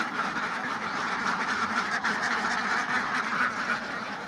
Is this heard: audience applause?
no